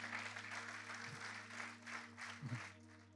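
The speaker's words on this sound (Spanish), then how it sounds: "Denle un aplauso al Señor" A church congregation applauds for the Lord, with faint, distant clapping as a soft continuous patter under a low hum.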